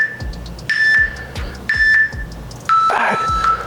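A workout interval timer sounds three steady electronic beeps about a second apart, each a sustained tone lasting around half a second, the last one lower in pitch, against low background noise in a gym setting.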